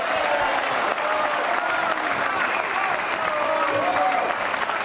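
Steady applause fills a pool hall as spectators clap for player Paez, a dense, even patter from a nearby crowd lasting several seconds with a voice talking over it.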